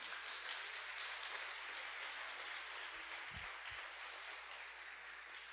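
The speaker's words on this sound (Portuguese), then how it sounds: "Aplaude a vida deles aí, por favor" An audience applauds, a steady wash of clapping at a distance that holds evenly throughout, with a few low thumps near the middle.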